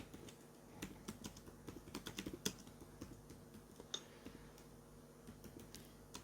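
Fingers type on a computer keyboard, producing quiet, irregular clicks that cluster in quick runs and then slow to scattered single keystrokes.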